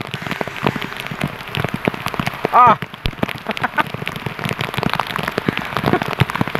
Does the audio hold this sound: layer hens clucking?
no